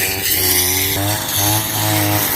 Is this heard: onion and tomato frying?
no